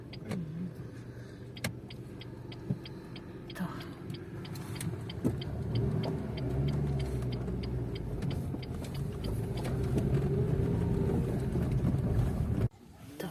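A car approaches and pulls up outdoors in Ukraine, its engine rumble building steadily and staying close, with gusts of wind buffeting the microphone and no talking.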